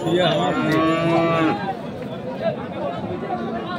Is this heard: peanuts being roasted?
no